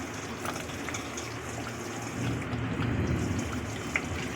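Rose water is poured into a dish of mutton rezala, giving a soft, close, continuous liquid trickle and gush that swells slightly midway.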